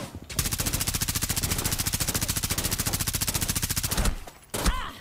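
Rapid automatic gunfire in Rainbow Six Siege rattles loud and close in one continuous burst for about four seconds, then stops, with a short fainter noise afterward.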